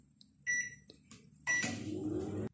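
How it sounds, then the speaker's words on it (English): A kitchen microwave oven: a few electronic keypad beeps, then the appliance starts with a steady, close whirring hum that runs to a sudden stop. "I'm just gonna put it in the microwave for like"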